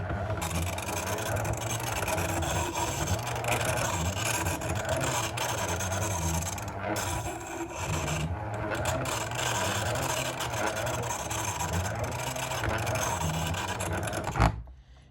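Continuous rasping, whirring grinding from a hand-cranked Peerless bench grinder working metal, steady and fairly quiet, with slight rhythmic variation from the cranking and a brief knock near the end.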